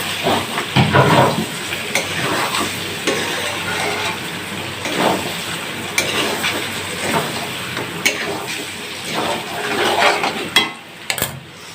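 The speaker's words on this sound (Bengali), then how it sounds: "এবার আমি জল দিয়ে দিচ্ছি" Water is poured into a pan of sizzling duck curry (hasher mangsho) with fried potatoes, giving a loud steady hiss and bubbling that rises and falls, with a few stirring scrapes near the end.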